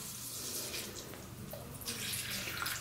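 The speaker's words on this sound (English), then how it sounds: "you want to pour 400 or 500 mL of warm tap water into each tray." Warm tap water pours steadily into the tray of a Hidrex iontophoresis machine, a continuous close splashing rush with no talk.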